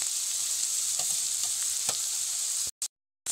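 Onion, ginger and garlic paste frying in hot oil for a katla fish belly curry, a steady close hiss of sizzling with a few soft stirring knocks, then cutting briefly to silence at the end.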